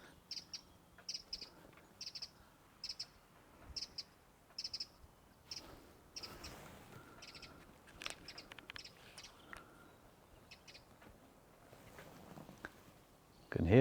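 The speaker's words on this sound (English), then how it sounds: "I think it's a robin." A small bird, probably a robin, chirps outdoors in short repeated high calls at a moderate distance, over faint rustling and footsteps.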